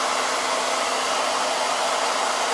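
Hair dryer blowing on small painted pieces, a loud, steady broadband whoosh held at constant strength from start to finish.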